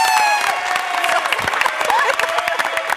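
A studio audience at a TV variety show bursts into dense, close applause, with whoops and cheering voices mixed into the clapping throughout.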